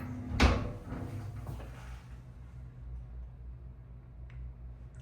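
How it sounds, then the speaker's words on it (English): A glass sliding shower door in a hotel bathroom bumps and rolls once near the start, then the room settles into a quiet hiss with a faint click later. "Shower has these glass sliding doors."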